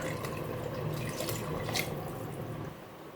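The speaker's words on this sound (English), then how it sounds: "So I'm gonna add some water" Water runs and splashes steadily into a cooking pot of yam pottage being prepared, a soft continuous pour close by with no talking.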